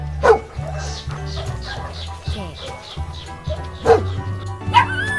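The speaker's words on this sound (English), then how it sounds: "Dog." A few sharp dog barks and yips at irregular moments, close by, with a steady low hum running underneath throughout.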